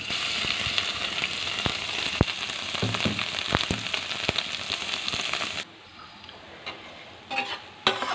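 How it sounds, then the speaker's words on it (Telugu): Beetroot chutney is stirred into a hot tempering of oil, seeds and two fried red chillies, giving a steady close sizzle with scraping spoon strokes that stops abruptly, leaving a few faint clicks. "తాలింపు వేగింది, పచ్చడి వేసుకున్నాం."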